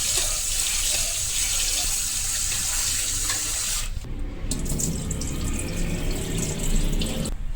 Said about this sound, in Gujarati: હવે આપણે આ બધી વસ્તુને તાજા પાણીમાં ધોઈ લેશું